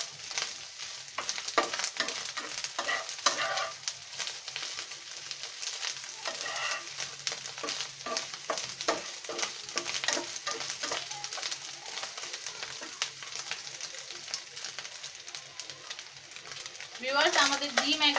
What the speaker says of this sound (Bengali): আমাদের ডিম একবারে সুন্দর মতো ভাজা হয়ে গিয়েছে, আপনারা দেখতে পাচ্ছেন। আমরা আরেকটুখানি ভেজে এটাকে নামিয়ে নেব।